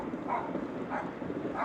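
Three soft, distant-sounding barks from a dog reacting to a mobility scooter, spaced evenly over a low outdoor background hum.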